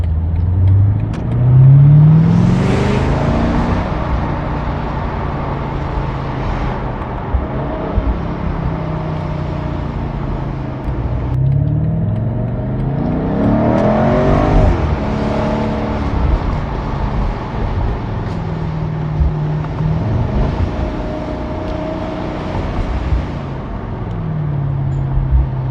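A 2020 BMW M8 sports car drives by in repeated passes, its engine rising and falling in pitch as it accelerates and shifts, loud and close with gaps of quieter road noise between surges.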